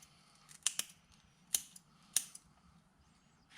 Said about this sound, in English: Grab a pinch of that hair, about a pencil's worth, and then we're gonna snip it at the very bottom.